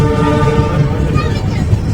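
A passenger train pulls out of Siliguri Junction with a low rumbling drone and a tonal hum, heard steady and close from inside a carriage while someone speaks over it.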